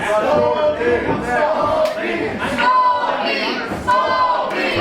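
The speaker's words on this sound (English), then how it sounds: "Crowd again letting MJF know what they think about him." A wrestling crowd at a Greektown Wrestling event reacts loudly to MJF, with sustained shouting, chanting and jeering voices swelling and falling in waves.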